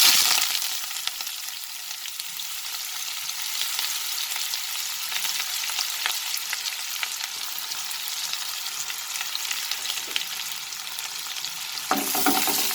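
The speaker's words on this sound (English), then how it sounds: "now I'm going to add the sliced onions" Sliced onions fry in oil spiced with cinnamon and cardamom, a steady loud sizzle with scraping stir strokes throughout and no talking; a short break and a burst of renewed crackle come near the end.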